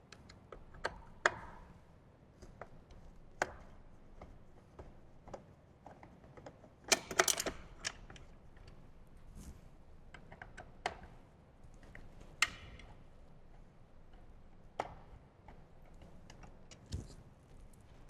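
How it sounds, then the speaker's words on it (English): A Torx T25 driver removes bolts from the radio top plate of a 2014-or-later Harley-Davidson Touring motorcycle. Faint, close metallic ticks and clicks come at an irregular pace in a quiet room with no talking. "So we're going to go ahead and start by removing the bolts on the top plate first."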